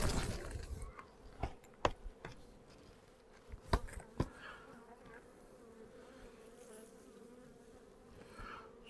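Honey bees buzz steadily at a beehive, a continuous low drone of many insects close by, broken by a few sharp clicks and knocks in the first half.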